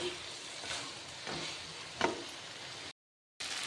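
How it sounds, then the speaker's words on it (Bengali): Boiled banana flower sautéing in a pan for a vegetarian dish, a steady close sizzle with a few stirring scrapes, one sharper knock near the middle, then a brief cut to silence before the frying resumes. "এবার সিদ্ধ করে রাখা মোচাটা দিয়ে দেব এটা কিছুক্ষণ ভালোভাবে কষিয়ে নেব"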